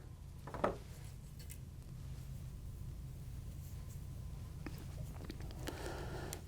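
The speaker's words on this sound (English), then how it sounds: "cutting a few strands at a time" Scissors cutting a few strands at a time from a rabbit fur strip while tying a steelhead spey fly, with a brief snip early and a few faint clicks later over a low steady background hum.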